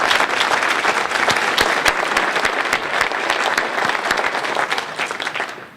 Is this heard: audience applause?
yes